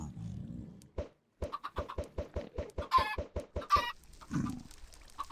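Chickens in the video game Minecraft make a quick run of around a dozen short, evenly spaced clucks, close and clear, with a couple of brief sharper squawks near the end and a low voice at the start.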